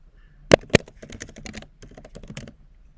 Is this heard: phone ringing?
no